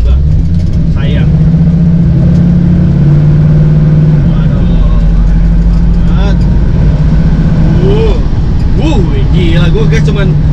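A Mustang GT500 Eleanor's engine drones deep and loud from inside the cabin, a steady low rumble that swells slightly under throttle while people talk over it.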